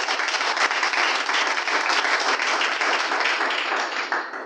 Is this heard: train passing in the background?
no